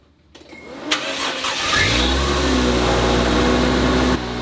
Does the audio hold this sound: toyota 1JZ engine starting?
yes